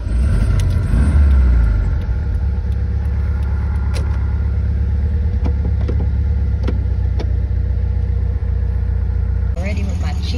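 A 1972 VW Super Bug rolls along, its air-cooled engine giving a steady loud rumble from inside the cabin, with small rattles and a few clicks along the way.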